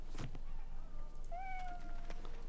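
Cats meow in the Dragon Age Origins video game, a faint meow early on followed by thin tonal cries over a steady background hum, with no speech.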